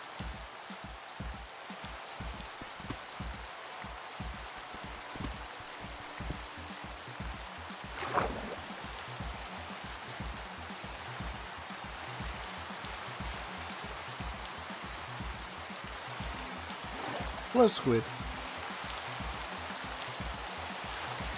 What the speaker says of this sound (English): I don't know why I hear rain underground.